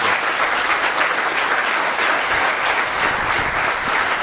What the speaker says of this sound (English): Please give a huge round of applause and welcome our chief guest for